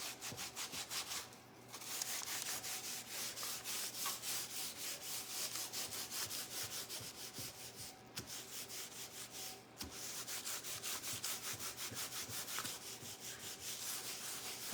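Steady, continuous rubbing and smoothing over decoupage paper on a vintage Santa Christmas wall hanging, a close, dry scraping texture with only brief pauses.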